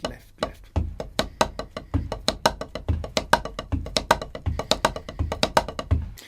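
Quick snare strokes alternate with deep kick drum thumps in a steady repeating six-stroke roll pattern, the bass drum replacing the first right-hand double, played close and alone.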